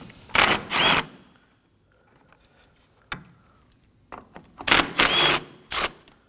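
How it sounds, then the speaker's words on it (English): A 10 mm socket on a ratchet removes the coolant reservoir bolts of a 2011-2016 Kia Optima 2.4L, giving loud, close bursts of ratcheting clicks with a short, quiet pause between them and no talking. "Using a 10 millimeter socket,"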